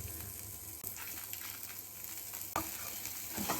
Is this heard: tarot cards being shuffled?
no